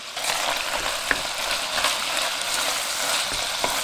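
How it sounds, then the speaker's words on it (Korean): Beef stir-fries in its own fat with onion, doenjang, ssamjang and minced garlic, a loud continuous close sizzle with a few scraping stirs across the pan and no talk. "소고기 기름에 잘 볶아줍니다."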